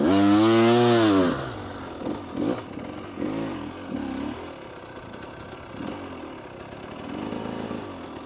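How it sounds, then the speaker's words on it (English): A two-stroke motorcycle engine revs high and buzzy, then drops to a lower, uneven putter with brief throttle blips. "the sound of a two-stroke engine"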